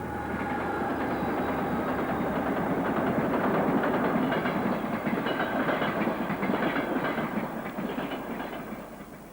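A Moscow-Kiev express passenger train rumbles steadily past at close range on a single-line section, with a dense, roaring wash of wheel and carriage noise that swells and slowly eases off.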